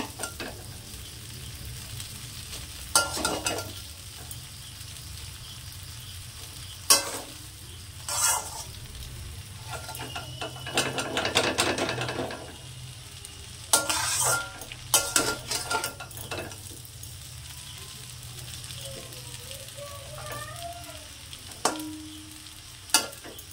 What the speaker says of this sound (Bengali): এইভাবে আমি খুন্তি দিয়ে একটু দলাগুলো ছাড়িয়ে নেব।